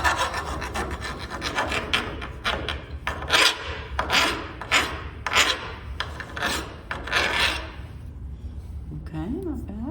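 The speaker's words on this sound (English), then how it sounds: "Just something to take the burrs off, because I had to make that custom piece." A hand file rasps in repeated strokes across a custom metal piece for a 1920s industrial window, taking off burrs with close, scratchy back-and-forth passes that fade near the end.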